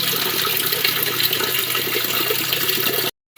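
Water gushes from a pipe into a barrel in a steady, loud splashing rush that cuts off abruptly just before the end, with no voices.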